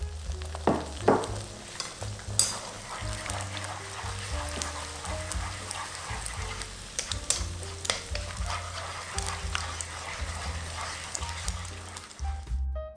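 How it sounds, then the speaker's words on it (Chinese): Eggs fry in a generous amount of moderately hot oil in a wok, stirred constantly with chopsticks to break them into fine bits; steady sizzling runs throughout with repeated scraping and clicking of the chopsticks, up close. "接着用筷子不断的搅拌。"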